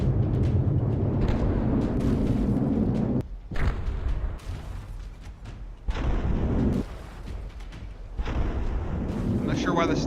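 A large explosion in the From The Depths tank battle game: loud, sustained rumbling booms with sharp breaks and renewed blasts, filling the clip without speech.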